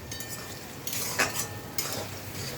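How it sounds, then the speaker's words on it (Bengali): Onions frying in oil in a pan, a soft steady sizzle broken by a few scraping stirs and light clinks of a utensil against the pan, close up with no talk. "পেঁয়াজটা লাল লাল করে ভাজা হয়ে গেছে, আর একটু ভাজবো"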